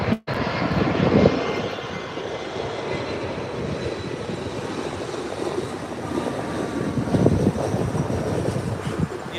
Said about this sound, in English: United Express Embraer 175 coming in from Reno.